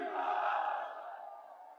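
A large political rally crowd roars back in unison, a loud sustained chant that swells and then slowly fades over about two seconds, with no single voice standing out.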